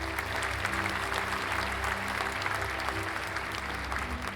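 Sustained applause from many hands, a dense, even clapping that stays steady throughout.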